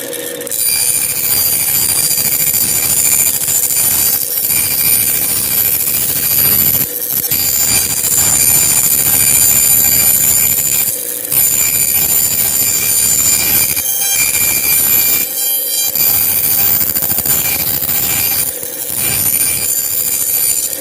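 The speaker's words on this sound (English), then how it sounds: "The method that I choose to use is the bandsaw." A bandsaw cuts servo disc circles, giving a loud, continuous whining and rasping drone with brief dips where the cut pauses, running steadily throughout with no talking.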